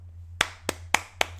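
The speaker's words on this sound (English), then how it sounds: "Clap it up." Four sharp hand claps ring out alone at an uneven pace over a low steady hum, each one crisp and close.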